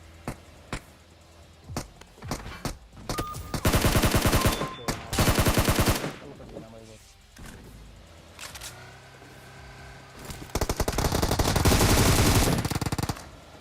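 Automatic gunfire from PUBG Mobile, with scattered single shots and then several long, loud, rapid bursts of rattling fire with short gaps between them.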